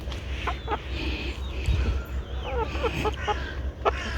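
Several chickens clucking nearby in short, scattered bursts, with some quiet voices in the background.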